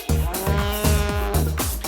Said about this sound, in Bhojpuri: गाय भैंस रंबावेले